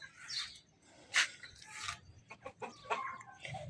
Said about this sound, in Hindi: इधर जो हमारी मुर्गी हैं वो भी आपको दिखाते हैं।